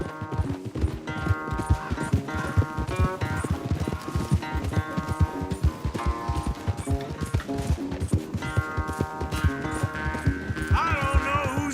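Rapid, rhythmic hoofbeats of a galloping horse in Red Dead Redemption 2 drive steadily under loud music, with brief voices cutting in now and then during a race.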